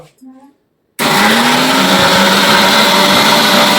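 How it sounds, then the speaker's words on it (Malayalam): A mixer grinder grinding onion and lentils starts abruptly after a brief voice and then runs as a loud, steady, close whir with no break. "മെക്സിക്കകത്ത് അരച്ചെടുക്കാൻ വേണ്ടി പോവാണ്"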